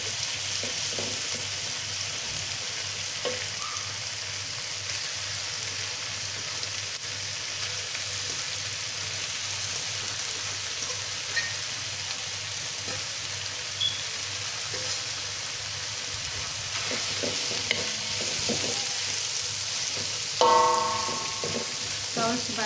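Water spinach and eggplant leaves stir-fried in a pan with shrimp paste, a steady close sizzle running throughout with occasional scraping stirs and a brief clatter of utensils near the end.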